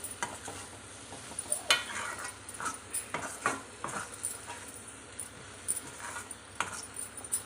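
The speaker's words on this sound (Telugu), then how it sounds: "ఇంకా కొంచెం స్లోగా అలా అలా తిప్పుకుంటూ ఉండండి లేకపోతే ముక్క విరిగిపోద్ది" Raw mango curry with chili powder being stirred slowly in a pan: quiet, repeated scraping strokes of a spoon against the pan over faint sizzling, close and without talk.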